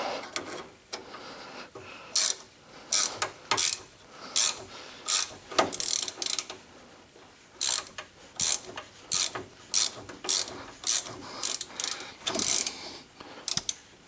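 Vise-grip locking pliers working a nut loose on a car's emergency brake cable, producing repeated sharp ratcheting clicks in short bursts, close and loud, with no talk.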